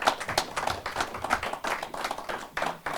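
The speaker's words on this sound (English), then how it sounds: "Let's give our wonderful guests tonight a round of applause" Audience applause for guests at the end of a panel discussion on vaping regulation, a modest number of hands clapping near and irregularly, with uneven bursts that taper off.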